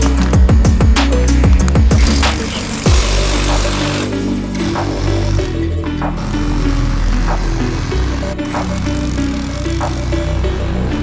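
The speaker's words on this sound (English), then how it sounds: "I then drilled a hole for the electricity connection towards the winter garden." Power drill boring a hole in an apartment wall for an electrical connection, a loud continuous grinding whine close up with a rattling start in the opening seconds.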